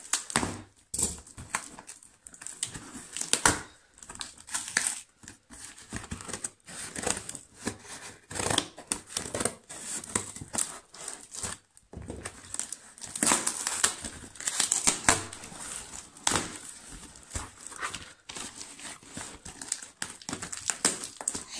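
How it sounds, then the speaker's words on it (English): A cardboard box holding a collection of books is opened by hand. Irregular crinkling, tearing and rustling of packaging sounds close up, coming in uneven bursts with short pauses. "Just gotta be careful not to cut the packaging."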